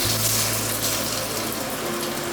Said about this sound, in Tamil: ஒரு டம்ளர் அளவாக தண்ணி ஊற்றிட்டு இந்த ஜார்லேருந்து எல்லாமே எடுத்துடணும்.